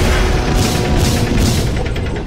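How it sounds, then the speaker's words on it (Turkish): A bomb attack from above goes off in the Tanks 2D video game as a dense, loud roar of rolling explosions and booms. It sounds close and continuous, with rapid blasts thudding through it. "Yukarıdan bomba saldırısı yapalım."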